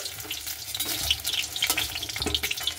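Pointed gourd (potol) frying in oil in a pan, a steady close crackling sizzle with spitting pops and no talk.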